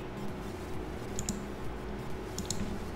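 Light, quick computer mouse clicks in The Sims 4 sound over a faint steady hum, a few small taps scattered sparsely, close and quiet.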